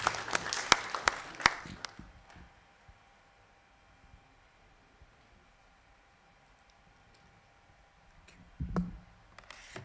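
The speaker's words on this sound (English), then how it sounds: "Let's welcome him with a round of applause." Audience applause at a Graphic Communications Group and Stanbic Bank event, a burst of clapping over the first two seconds, then a long quiet stretch with a brief swell near the end.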